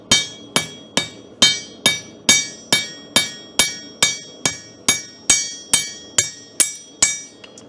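A hammer strikes metal on an anvil at a blacksmithing hammer-in demonstration: about fourteen sharp, ringing blows land in a steady, even rhythm, close and loud, with no talking.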